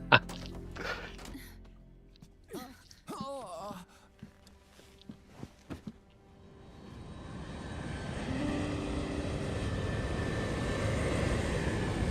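A propeller airplane engine drones steadily in Metal Gear Solid 4, rising in after a stretch of game dialogue and holding as a broad, moderately loud hum to the end.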